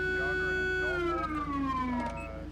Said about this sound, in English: the siren that I placed on this vehicle, is that this is not how it's supposed to sound like